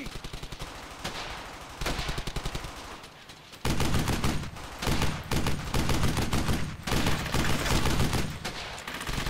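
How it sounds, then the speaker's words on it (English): Suppressive gunfire in the WWII shooter Brothers in Arms: Hell's Highway, loud rapid machine-gun bursts and rifle volleys in repeated stuttering bursts with short gaps between them. "Want suppressive fire on that position"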